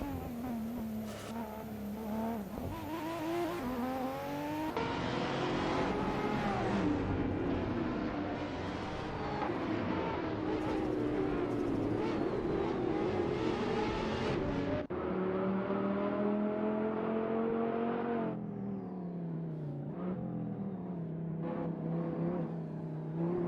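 Race cars lap a Long Beach street circuit in a racing game, their engines whining and revving, shifting pitch as the cars pass, with some tire squeal, continuous and fairly close.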